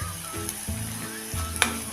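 Onion-garlic chutney masala with salt sautéing in oil for a Kolhapuri tambda rassa: a steady close sizzle and crackle, with a spoon scraping and stirring the pan in a few rhythmic strokes.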